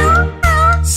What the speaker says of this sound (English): There was a farmer who had a cat, and Oscar was his name, oh.